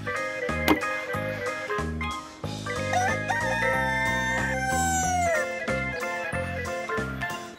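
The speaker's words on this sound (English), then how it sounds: "Rooster." A rooster's crow rises and trails off over a busy, jingly electronic melody playing throughout, with no voices.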